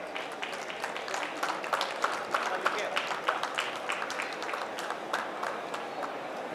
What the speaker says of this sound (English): I think we can use more louder claps if we can